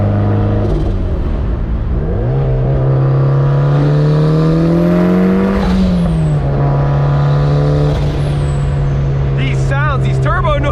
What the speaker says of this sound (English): These turbo noises are insane.